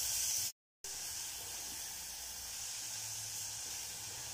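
A quiet, steady hiss of tempering sizzling in hot oil for a dill and spinach curry, broken by a brief cut to silence near the start, then continuing evenly.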